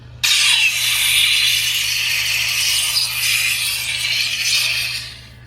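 A Proffie-board neopixel lightsaber plays its blade lockup effect, a loud, sustained crackling buzz that starts abruptly, holds for about five seconds and then tapers off, with no voices over it.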